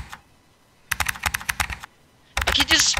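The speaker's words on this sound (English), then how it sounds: "I can just spam backspace, it just makes constant keyboard noises" Computer keyboard being typed on rapidly with the backspace key spammed, giving bursts of quick, close, clicky keystrokes separated by short pauses of near silence.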